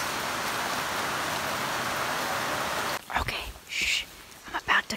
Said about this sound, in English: Look at how intense this rain is.